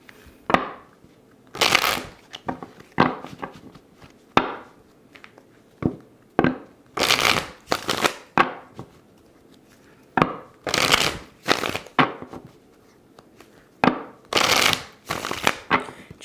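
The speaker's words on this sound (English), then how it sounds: "We'll get these cards ready for Deanna." Tarot cards shuffled by hand in repeated bursts, each riffle a crisp papery flutter followed by soft taps and squaring, with short pauses between rounds, close and clear with no talking.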